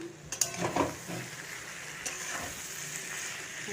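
Fish sizzling as it fries in hot oil, a steady close crackle with a few louder pops and a brief scrape of a utensil or pan.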